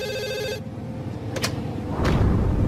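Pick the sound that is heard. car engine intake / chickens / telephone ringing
telephone ringing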